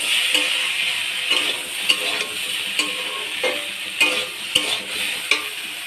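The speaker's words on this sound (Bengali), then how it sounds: "সজনেটা দিয়ে নেড়ে নেব" Drumstick pieces added to a frying pan are stirred, giving a steady close sizzle punctuated by repeated clacking scrapes of the spoon against the pan at irregular intervals, with no one talking.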